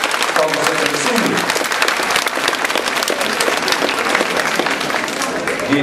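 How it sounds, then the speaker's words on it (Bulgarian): An audience claps for a children's performance. The applause is loud and sustained, with a voice talking over it. "Аплодисменти, моля!"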